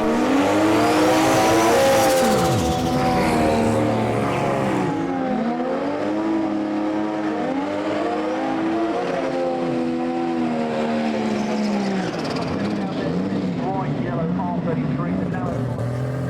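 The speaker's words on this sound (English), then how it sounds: "So with the burnouts completed, the cars edge into stage." Nissan Skyline GT-R drag cars, a blue R32 and a yellow R33, do burnouts at a Japanese-car drag racing event: loud revving engines rise and fall with tire squeal, under a commentator's voice.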